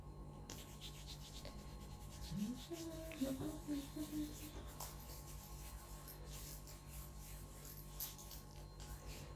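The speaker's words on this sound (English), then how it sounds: "So then just rub and, you know, like massage your nails for the blood circulation." Fingers rubbing and massaging warm oil into nails, a soft, close, continuous brushing friction with a faint background hum and a few light clicks.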